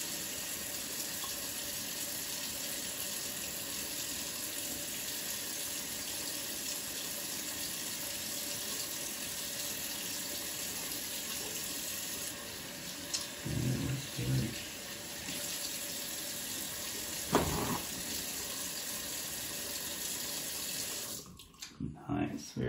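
Water runs steadily from a sink tap throughout hand washing, a constant broadband hiss with a few brief splashes and bumps near the end; speech is faint or absent.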